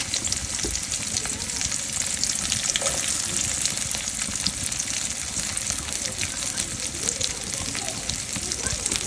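Chopped onions frying in hot oil, with a fish curry of pangash fish being cooked, making a steady, dense sizzle that fills the whole stretch with faint stirring and a soft voice underneath.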